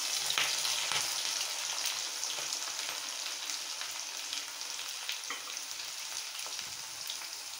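Shallots frying in hot oil in a pan with whole spices, giving a fairly soft, steady crackling sizzle with scattered pops throughout and no talking.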